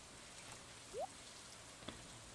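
In the Stardew Valley video game, soft steady rain patters throughout, with a quick rising chirp and a faint tick layered over it, and nobody speaks.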